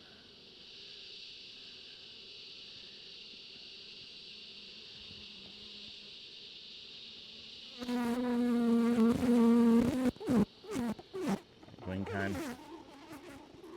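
Honey bees buzzing in an open hive during an inspection for Varroa mites, a steady close hum that swells louder midway with sharper bursts of wing noise, while a person speaks briefly.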